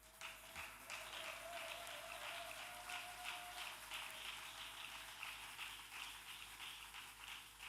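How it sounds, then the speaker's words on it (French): A church congregation applauds in a steady, dense patter of many hands that fills the room throughout, fairly faint, with a sustained tone running underneath. "applaudissons très fort"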